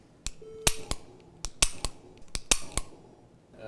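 Security forces airmen fire real guns fitted with sensors in a practice scenario at an air force base, giving a string of about ten sharp, irregular shots and clicks at close range, with no talk.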